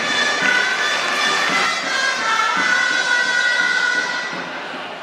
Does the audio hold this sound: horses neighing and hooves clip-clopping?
no